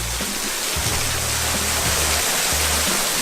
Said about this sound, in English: Beautiful waterfall. About a half mile past Bagby Hot Springs.